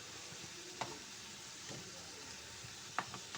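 A snack of flattened rice and egg fries quietly in a pan, a faint steady sizzle with a few soft taps as the pieces are turned over.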